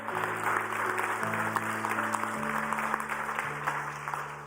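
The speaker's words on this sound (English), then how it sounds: "let's give a round of applause to the people who made that" Steady applause from a church service congregation fills the space, a dense patter of clapping over sustained background organ tones.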